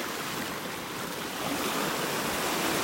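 Churned-up ocean waves at a beach in North Naples, Florida, a dense, continuous roar of surf that stays loud and close with no voices.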